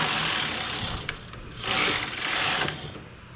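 Knitting machine carriage sliding back and forth to knit two rows of a neck wrap, a rough mechanical whoosh and clatter that swells in two passes, close and alone.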